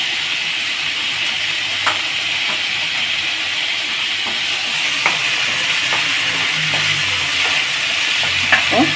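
Onions and tomatoes are sautéed with salt in a pan for a Bombay chutney. A loud, steady hissing sizzle fills the scene, broken by a few light scraping taps of stirring.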